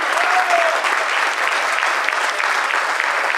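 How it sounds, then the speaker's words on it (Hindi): An audience in a theatre breaks into loud, sustained applause for the group's patron, with dense, even clapping from a full hall that continues steadily throughout. "तो इसलिए जोरदार तालियां।"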